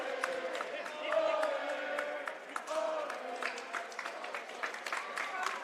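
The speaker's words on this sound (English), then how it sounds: "The crowd is roaring right now." Crowd at a high school boys basketball game roaring and cheering after a made corner shot, a steady distant wash of cheers and claps under a commentator's voice.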